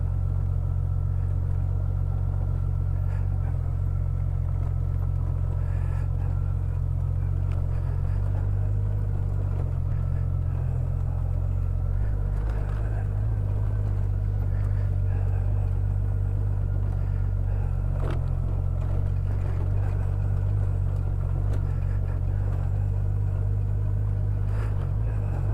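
Vehicle crossing a river ford at a campsite after a cyclone, with a continuous low engine rumble and drivetrain drone, close and steady for about twenty-five seconds, with faint sloshing and creaks on top.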